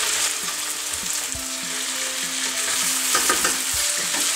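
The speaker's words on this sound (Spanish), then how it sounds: "Y vamos a freír todo a fuego alto durante unos minutos para que la piel se dore un poco." Chicken pieces frying over high heat in a pan for a stew with tomatoes and spices, giving a steady, close sizzle with occasional stirring scrapes and clinks and no talking.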